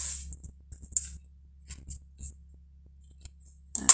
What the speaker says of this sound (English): let's come back in here and trim these tails